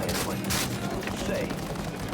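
Rapid gunfire bursts in a video game, a dense rattle of shots and impacts filling the scene with a steady loud wash and occasional sharper cracks, while voices talk over it.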